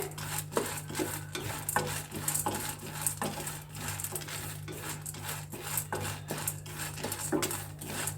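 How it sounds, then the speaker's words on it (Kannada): Dry lentils roasting in a pan for Mysore-style chutney powder are stirred continuously, giving a steady rustling scrape with frequent utensil knocks against the pan over a constant low hum. "ಚೆನ್ನಾಗಿ ಹೊಂಬಣ್ಣ ಬರಬೇಕು ಅಲ್ಲಿವರೆಗೆ ಹುರಿಬೇಕಾಗತ್ತೆ"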